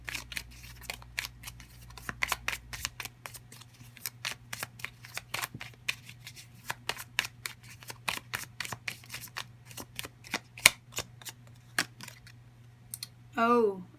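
Tarot cards are shuffled by hand in a long run of quick crisp riffling clicks at close range, ending with a short burst of voice.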